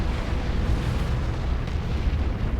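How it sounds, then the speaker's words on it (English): Chaos artillery barrage in Warhammer 40,000 Dawn of War 2, a dense, continuous rumble of overlapping explosions, loud and heavy, with no distinct pauses between impacts. "That's a Chaos Artillery barrage."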